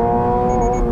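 A 2022 Subaru BRZ Limited sports car engine holds a loud, steady high rev near its 7,400 RPM range, droning continuously and close with a smooth, even tone.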